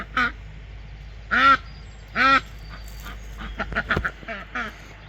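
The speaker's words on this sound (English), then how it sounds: "You heard the ducks down here." Farmyard ducks quacking near the fence, three loud separate quacks and then a quicker run of softer calls and bird chatter close by.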